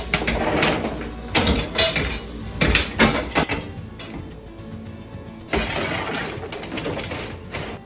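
Metallic scraping and clattering of a pot being tipped and shaken, with kettle corn popcorn rattling and tumbling out in bursts, close and fairly loud.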